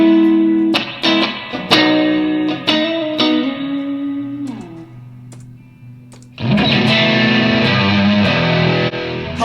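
Electric guitar through an Eventide H9 Max effects pedal's heavy distortion, with crunchy sustained chords and notes, a pause with a lingering low tone, then a loud fuzzy strummed chord ringing out.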